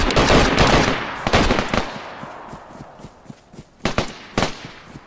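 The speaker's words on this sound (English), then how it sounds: "There's so many gunfire out here." Machine gun fire in the DayZ survival video game: a dense, loud burst of rapid shots at the start, then scattered single cracks and short bursts that thin out, with more distant shots rattling near the end.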